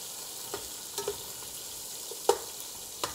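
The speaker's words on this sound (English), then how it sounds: "And together we will saute them." Pork fat and lean pork sautéing in a pan over low heat, a faint soft sizzle broken by a few sharp utensil scrapes and taps, close by with no talk.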